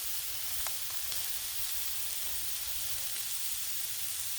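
Bacon ends and pieces sizzling on a Blackstone griddle, a steady close crackling hiss of frying fat that goes on without a break, with no talk.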